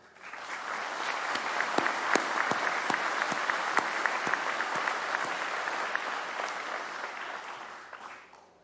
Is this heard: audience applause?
yes